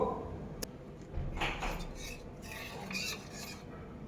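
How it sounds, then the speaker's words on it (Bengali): A spoon stirs a mixture into cold milk in a bowl for vanilla ice cream, making soft scraping swirls and light metallic clinks in short, uneven bursts. "এটার মধ্যে এটাকে ভালো করে চলো গুলে নেব"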